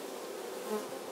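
Honey bees from an orphaned colony drone steadily at an open hive, a close, dense, continuous buzz with a slight swell near the end and no voices.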